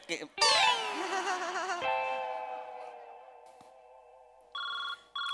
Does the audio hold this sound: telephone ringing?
yes